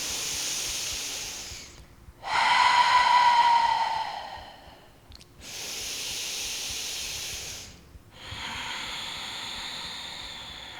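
Slow diaphragmatic breathing during an energy flow yoga session, with long airy breaths drawn in through the nose and let out through the mouth as steady hissing swells, each lasting a couple of seconds, close to the microphone.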